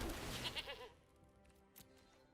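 Goat token in a Magic: The Gathering digital match lets out a short, close bleat, with a quick wavering cry that fades into quiet game ambience.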